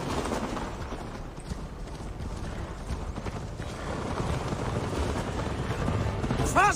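Galloping horse hooves in Assassin's Creed Valhalla as Eivor rides, a fairly faint, continuous drumming rhythm over a low game ambience with no talking.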